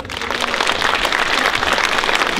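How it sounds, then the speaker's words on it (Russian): Loud, dense applause from a concert audience at a Russian-Turkish friendship evening, a steady wash of clapping that runs unbroken from start to finish with no voices on top. "под ваши бурные аплодисменты мы начинаем концертную часть вечера российско-турецкой дружбы"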